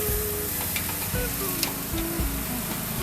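Steaks hiss and sizzle steadily as they start cooking, a loud close-up crackle with a few faint clinks and scrapes mixed in.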